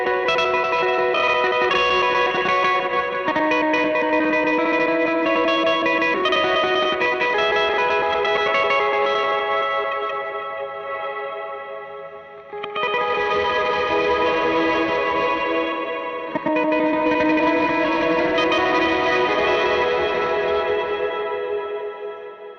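An LVX modulation pedal running its granular glitch effect gives a loud, dense, sustained wash of layered pitched tones with choppy stutters, cutting out briefly twice before resuming, with no voice over it.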